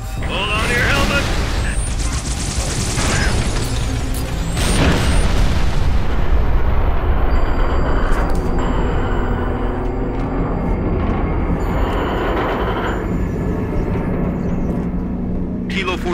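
Artillery fire-support strike in Halo: Reach, heavy booming explosions rolling and rumbling loudly over a constant roar of battle noise, with game radio voices speaking over the barrage.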